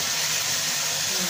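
Hot fried topping for Erzurum kesme soup, a Ramadan dish, sizzling as it is poured onto the soup, a loud steady hiss that fills the whole short moment with no pause.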